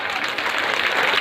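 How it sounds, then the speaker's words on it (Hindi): Audience at a Shrimad Bhagavat religious discourse claps loudly and continuously, a dense uniform wash of many hands for a brief moment. "एक बार जोरदार ताली बजाओ।"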